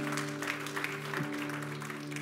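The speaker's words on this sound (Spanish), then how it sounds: "Denle un aplauso al Señor porque Él es bueno." Congregation clapping in a church, a dense steady round of applause throughout, with faint talk and a sustained tone underneath.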